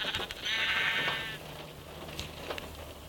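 A single sheep in a video game lets out one close, clear, quavering bleat lasting about a second, followed by quieter ambient game noise with faint taps.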